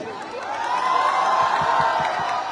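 A university audience at a film promotion cheers and claps for the director, a sustained crowd roar with whoops and scattered claps rising and holding throughout.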